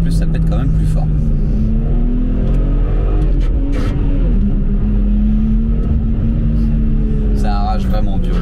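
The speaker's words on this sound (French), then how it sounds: "là en sport plus ça pète quand même plus fort" A BMW M240i in Sport Plus mode with traction control off drones loudly from inside the car, its engine tone rising and falling steadily while someone talks over it.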